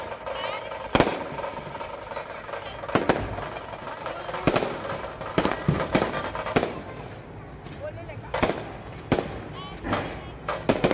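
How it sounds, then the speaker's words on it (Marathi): Small firecrackers burst repeatedly at a Ram Navami street celebration, sharp cracks at irregular intervals, some in quick clusters, over a busy crowd murmur with people talking. "आवाज तर लय छोटा फटाक्यांचा"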